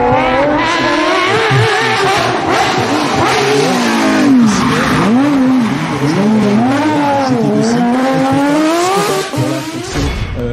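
Rally car on Michelin tyres at the Rallye le Touquet Pas de Calais, its engine climbing and falling through loud, sustained acceleration with sweeping pitch changes, close and continuous for the whole stretch.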